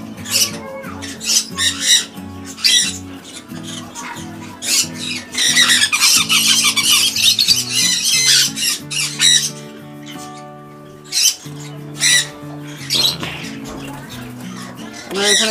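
Pet lovebirds and conures in a breeding setup squawk and chirp loudly in repeated harsh bursts, with people talking among the calls.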